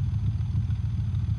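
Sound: Mercedes AMG S63 engine in video game BeamNG.drive

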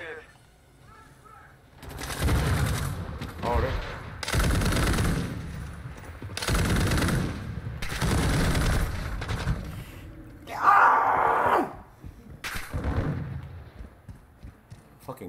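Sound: RAAL MG machine gun firing in Call of Duty 2 video game

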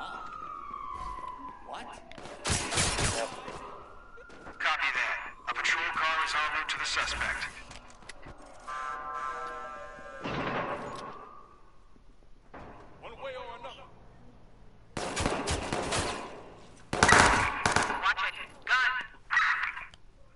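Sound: gunfire from the video game Watch Dogs 2

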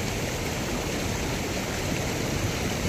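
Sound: flooding Caçatuba river water rushing

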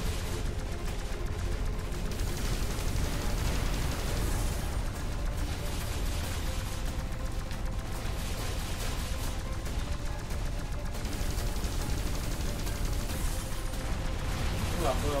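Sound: explosion and gunfire in the video game X-Morph: Defense

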